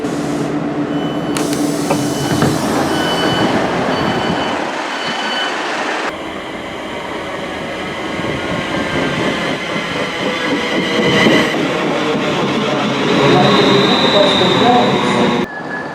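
Train slowly pulling into Bletchley station, heard from on board with steady rumbling, wheel squeal and clattering over the rails, loud and continuous with a few shifts in tone as it slows.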